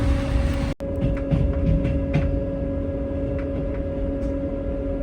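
A train runs with a loud, steady rumble and a constant tonal hum. The sound drops out for an instant near the start and then carries on evenly.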